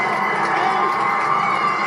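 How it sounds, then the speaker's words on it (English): Huge crowds lining the Long Walk at Windsor cheer the royal wedding motorcade, a dense, continuous wash of cheering and shouting voices. "huge crowds lining the long walk watched and cheered as the motorcade brought Meghan Markle"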